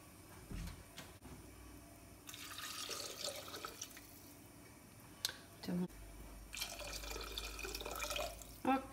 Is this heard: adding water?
yes